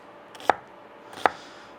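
Two sharp knife chops through onions for chow mein on a cutting board, close and clear, spaced under a second apart in a quiet kitchen.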